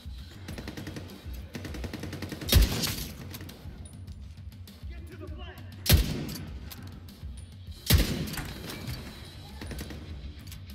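In the video game Division 2, during a hard-difficulty solo mission at Tidal Basin, three loud, isolated gunshots crack out several seconds apart over a steady rumble of game ambience and background noise.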